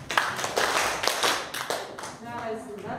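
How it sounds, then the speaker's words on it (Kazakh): A primary-school class claps in a quick rhythmic burst for a group of classmates: several sharp, close hand claps in an even pattern, followed by a voice speaking. "Кәні 4-ші топқа 3 шапалақ."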